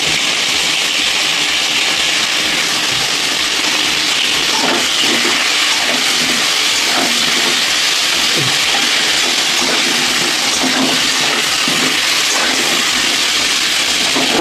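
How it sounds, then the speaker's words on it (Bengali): Vegetables frying in a pan with green chillies give a loud, steady sizzling hiss that runs unbroken from start to finish, with no voices. "সবজিগুলো ভাজছি"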